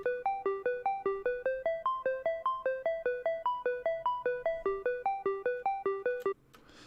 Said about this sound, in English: that is just a simple square, as you can see in the serum patch, with the pluck volume envelope here.